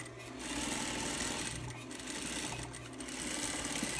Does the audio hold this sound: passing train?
no